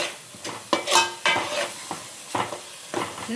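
A spoon scrapes and stirs Kerala-style fish curry in a pan, several clattering strokes over a light frying sizzle, loud and close with no voices.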